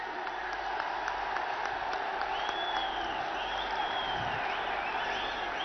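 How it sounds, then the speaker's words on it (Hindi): A big crowd at a Brigade rally claps to welcome Prime Minister Narendra Modi, making a dense, steady roar of applause mixed with cheers and a few whistles that lasts the whole time. "जोरे हाथ ताली दिए यशस्वी प्रधानमंत्री नरेंद्र मोदी जी के स्वागत जानाबेन"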